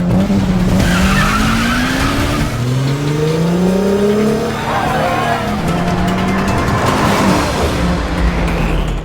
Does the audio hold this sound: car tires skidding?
yes